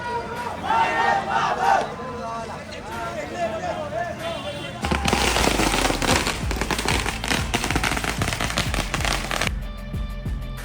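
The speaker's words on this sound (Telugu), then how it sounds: "ఇలా ఈ విధంగా ఇంటర్వ్యూలు అయ్యేసరికి స్టెప్పులతో టపాకాయలతో బయటైతే హోరెత్తించేశారని చెప్పవచ్చు" Film fans set off firecrackers outside a cinema at a movie re-release, a rapid, loud crackle of bangs that bursts in halfway through and follows crowd noise and shouting.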